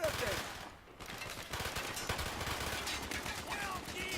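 Rapid gunfire from Black Ops, bursts of automatic shots crackling densely over several seconds with a brief lull near the start, mixed with shouted in-game soldier voices.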